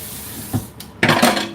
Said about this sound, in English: first I'm going to rinse my wooden spoon